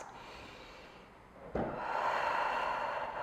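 Deep breathing during a stretching exercise, with a faint steady exhale followed by a sharper audible intake of breath midway that continues as a fuller sustained breath, close and alone without talking.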